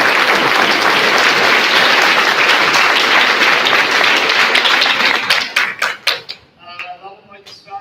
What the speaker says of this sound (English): So can I get a round of applause?